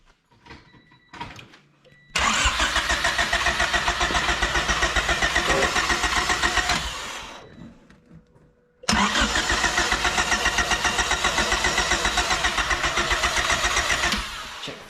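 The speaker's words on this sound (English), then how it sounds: "we're gonna give her a good couple of cranks before we start her" A turbocharged Honda Civic engine cranks over on the starter in two long, loud runs of rapid rhythmic churning, separated by a short pause, without catching.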